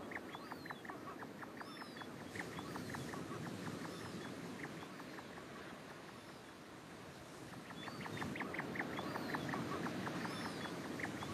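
Calls of Atlantic puffins and other seabirds at a Scandinavian seabird colony, a dense chorus of repeated short calls, some near and some distant, over a steady background hum with no talking.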